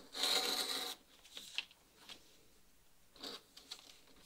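Leather collar on a wooden oar being trimmed: a close rasping scrape at the start followed by a few short, quieter scrapes and rubs separated by pauses.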